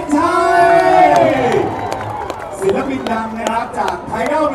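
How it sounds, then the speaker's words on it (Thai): Crowd at a Thai luk thung mini-concert in a shopping centre, cheering and shouting with scattered claps; loud voices whoop and call out over the noise. "ปรบมือดังๆ"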